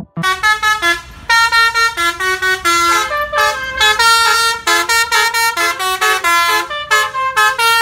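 Indonesian bus telolet horn playing a rapid, rhythmic tune, loud and close, with short multi-tone blasts pulsing in a bouncy pattern and brief breaks between phrases.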